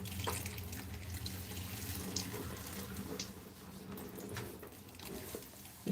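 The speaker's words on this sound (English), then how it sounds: "That is why I filter the water." Tap water running through a household filter into a sink, a steady soft rush of flow with faint splashes, fairly close and quiet, with no talking.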